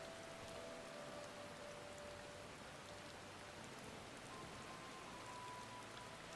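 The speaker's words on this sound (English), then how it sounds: "By the way, it's raining. If you didn't notice, it is raining." Steady rain pours down in Final Fantasy XIV, a dense, even hiss of drops on surfaces that fills the whole stretch without a break, with no voices over it.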